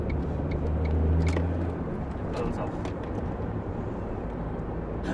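A 2005 Ford Mondeo 2.0 TDCi Zetec turbo diesel pulling away, heard from inside as a steady low engine drone and road rumble that swells briefly, then holds at an even level.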